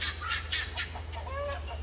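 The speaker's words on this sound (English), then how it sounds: "Crazy birds." Several chickens cluck and squawk in short, irregular bursts close by, over a steady low hum in the background.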